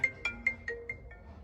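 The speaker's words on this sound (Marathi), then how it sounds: "घरनं फोन आला" An electronic phone ringtone chirps in a quick series of six short beeping tones, fading slightly toward the end.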